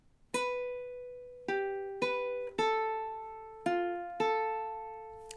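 Ukulele playing the bar 33 riff of the Jamaican folk song Day-O (The Banana Boat Song): seven clean plucked notes in steady time, each ringing briefly before the next, close and alone with no talk.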